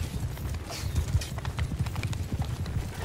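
Horse hooves in the Realm of Thrones mod for a medieval strategy game, clip-clopping in a steady, busy rhythm of close, loud thuds over a continuous low rumble, with no talking.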